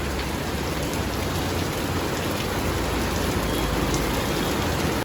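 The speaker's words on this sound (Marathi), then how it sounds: "एवढा जोरात पाऊस आलाय" Heavy monsoon-style rain falls hard and constantly, a loud, dense broadband downpour drumming on surfaces without letup for the whole stretch, with no voices over it.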